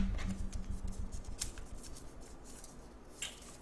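A single piece of paper is handled close by, giving a run of quick, dry crinkles and rustles that fade to softer scratchy handling.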